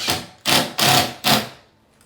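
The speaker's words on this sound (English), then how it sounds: "I'll just go ahead and set one more screw here." A screw being driven into a bath and shower surround, heard as four loud, close bursts of power-driver whirring separated by short gaps, with no talking.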